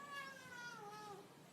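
A cat meows in a comedic meme compilation, a drawn-out, wavering cry of about a second and a half that holds steady, then slides downward, heard alone at low volume.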